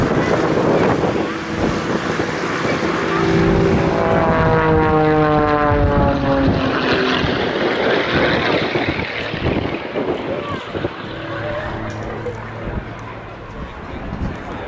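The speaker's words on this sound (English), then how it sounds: "Quite apart from the addition of the gas turbine engine, this is a very heavily modified pit special." A heavily modified Pitts Special aerobatic biplane fitted with a gas turbine jet engine performs at the Duxford Summer Air Show, a loud roaring whine sweeping down in pitch as it passes, then fading under wind noise.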